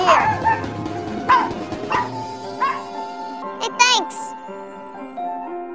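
A dog named Lucy lets out several yips and bow-wow barks in quick bursts, with a few whimpering squeals, close by and fairly loud, mixed with a soundtrack.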